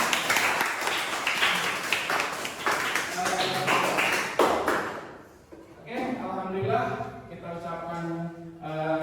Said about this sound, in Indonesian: Oke, tepuk tangan ya buat semuanya.